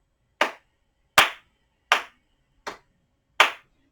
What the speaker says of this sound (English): I'm going to clap now.